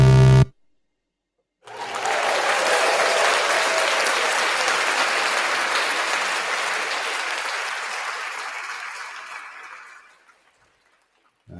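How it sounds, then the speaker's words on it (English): Canned applause plays back through new audio equipment, a sudden burst of many hands clapping that swells to a steady wash, slowly thins and fades out after about eight seconds. "You can hear all that, the clapping and the whatnot."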